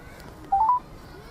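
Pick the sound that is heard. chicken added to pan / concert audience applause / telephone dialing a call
telephone dialing a call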